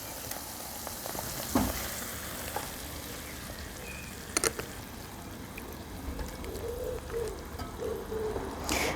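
Tomato paste frying in a pan of reduced vodka for penne alla vodka, a soft steady sizzle with a few brief stirring clinks and scrapes, close and moderately quiet, with no talking.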